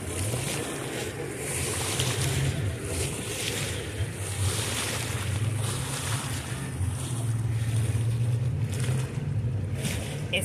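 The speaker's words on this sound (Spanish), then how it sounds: "Ese lago se ve así, pero está bravo" Choppy waves on a rough, windy lake, a steady broadband wash with wind buffeting the microphone, continuous and fairly close with no voices.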